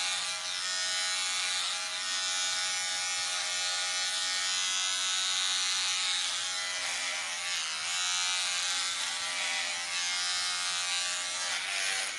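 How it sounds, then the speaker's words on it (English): Electric razor buzzing steadily as it shaves off a mohawk, a loud, continuous droning hum close to the ear, with slight changes in pitch as it moves through the hair. "shave that mohawk"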